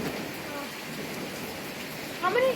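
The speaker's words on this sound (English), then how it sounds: "It was just a little storm to pass through." Steady rain from a passing summer thunderstorm pours down as a constant hiss, with a person speaking briefly near the end.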